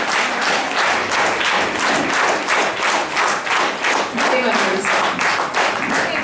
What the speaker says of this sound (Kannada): ಅವ್ರಿಗೆ ನಿಮ್ಮ ಚಪ್ಪಾಳೆಗಳೇ ಸ್ವಲ್ಪ ಜೋರಾಗಿ ಬಹುಮಾನವಾಗಿ ಬರಲಿ